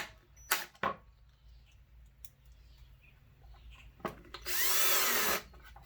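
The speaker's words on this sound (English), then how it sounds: "So basically we're just putting screws at the sides and ends of this to keep it from moving" A power drill drives screws into the sides and ends of a polymer magazine for a 350 Legend rifle, with two short whirs at the start, quiet handling in between, then a loud sustained run lasting about a second.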